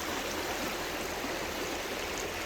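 Water rushes steadily, a broad continuous hiss of a flowing river in Idaho with no other sounds.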